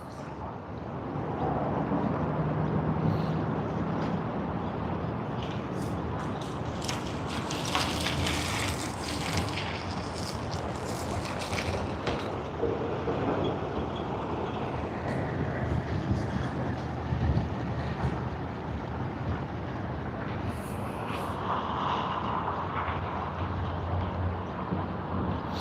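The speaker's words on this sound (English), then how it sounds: "737-800 coming in" A Boeing 737-800 landing at Sydney Airport in the early morning, a long steady roar of jet engines with wind buffeting the microphone, swelling and lingering throughout.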